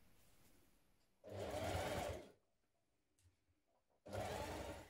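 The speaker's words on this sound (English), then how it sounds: "We're going to edge stitch it all the way around" A sewing machine edge stitching a knit cardigan runs in two loud, steady bursts of rapid mechanical whirring, separated by a quiet pause with faint handling clicks, close up.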